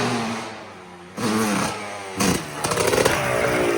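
A Honda CR125 two-stroke dirt bike engine revs repeatedly, rising and falling in sharp, buzzy bursts that grow more frequent toward the end, loud and nearby.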